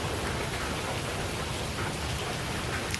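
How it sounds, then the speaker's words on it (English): Steady rain falls in Singapore as an even, hissing wash of drops, moderately loud and continuous with no voices over it. "The rain has lessened, it hasn't completely stopped"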